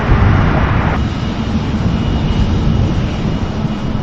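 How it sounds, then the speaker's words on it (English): A Malaysia Airlines jet airliner rolls at Sydney Airport, its engines a steady, loud broadband roar that holds without letup and without any voices. "Malaysian Airlines is on the move now"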